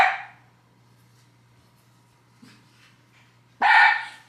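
A dog indoors at home gives two loud, close barks, one at the very start and another near the end, separated by a few seconds of near silence with a low steady hum.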